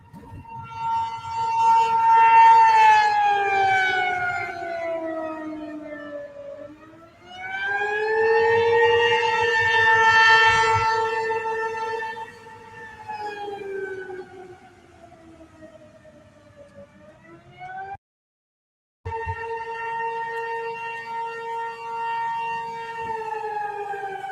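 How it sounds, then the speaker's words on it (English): Civil defense sirens in the city of Larned, Kansas, wail loudly with long rising and falling tones during storm conditions, a brief cutout near the end before the drone resumes, no talk over it. "And good on the city of Larned for getting their sirens going."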